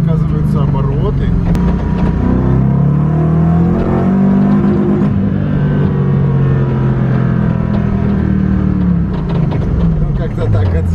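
A drift car's engine runs loudly and close, its revs rising and falling in long smooth sweeps over about eleven seconds, with someone talking over the motor.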